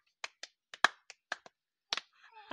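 Hand clapping from village children, several sharp, separate claps in an uneven rhythm with short pauses between them, close and clear, followed by a faint voice at the end.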